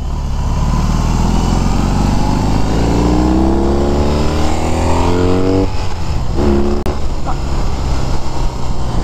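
A 2021 BMW R18 First Edition motorcycle engine revving while riding: a loud, close, deep rumble climbs in pitch under throttle, then drops and roughens, with steady wind and road noise throughout.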